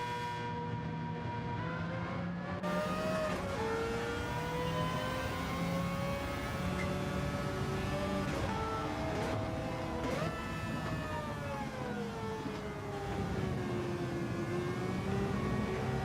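Race car engine lapping a track in a racing video game time trial, steady and droning at sustained high revs, with pitch sliding up and down through gear changes and corners for the whole stretch.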